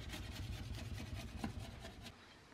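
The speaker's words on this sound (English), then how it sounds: "It's like a razor blade. That's attached to a hand tool, and what you do is you just scrape up" A razor blade on a hand tool scraping old paint off window glass during window restoration, a close, continuous rasping scrape in quick repeated strokes with no voices.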